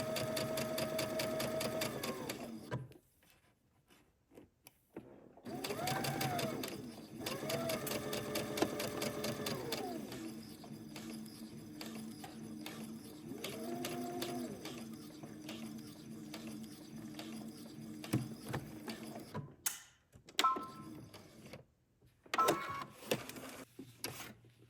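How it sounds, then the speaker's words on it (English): A sewing machine stitches darts on a dress bodice in several steady whirring runs separated by short pauses, with faint handling clicks between bursts. "Then we're going to go to the sewing machine and sew the darts."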